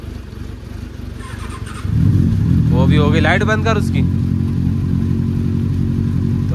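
A Benelli motorcycle idles in the cold at minus 11 degrees after starting, a steady low engine drone that swells after a couple of seconds while someone talks over it.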